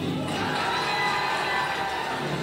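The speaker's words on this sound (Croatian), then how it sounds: "Jedan aplauz molit ću i za Moni." A crowd at a diaspora evening event in Graz makes a dense, continuous wash of applause and cheering, loud and steady throughout, with no single voice standing out.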